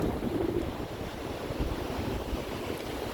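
Sea surf washes along the shore at Agno as a steady, broad roar mixed with wind buffeting the microphone, with no voices.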